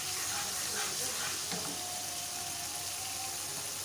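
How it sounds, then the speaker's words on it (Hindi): Garlic and ginger fry in a pan for aloo chawal, a faint, steady hiss and sizzle with light stirring and nobody speaking. "लहसुन अदरक फ्राई हो जाए तो हरी मिर्च डाल दें एक"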